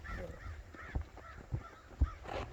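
A crow-like bird caws outdoors on a bushy trail, with three short, faint calls spaced apart over quiet ambient noise.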